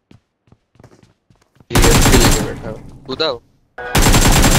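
Bursts of rapid automatic gunfire in the mobile battle royale game PUBG Mobile during a tournament final zone at Pochinki, loud and dense, cutting in twice with a short gap and a brief spoken word before them.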